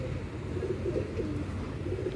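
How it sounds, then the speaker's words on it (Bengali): Pigeons cooing at a pigeon sale, soft repeated low coos from several birds close by over a murmuring background, no one talking. "দেখাই আপনাদের পায়রাগুলো।"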